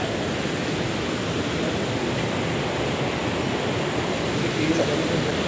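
Lakkam waterfall in Munnar pours in a steady, dense rush of falling water, continuous and even throughout, filling the scene with a broad roar.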